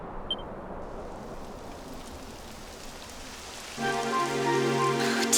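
Rain begins in Dragon Quest XI as a soft, steady hiss of falling drops that thickens into a louder, denser wash toward the end, joined by a bright musical tone in the background.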